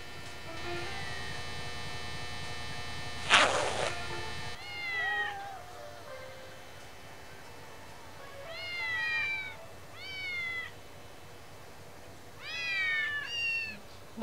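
Cat meows in the Postal 2 video game, from a cat lying on an operating table: a run of rising, wavering meows in short repeated bursts over a steady electrical hum, with a brief harsh noise burst early on.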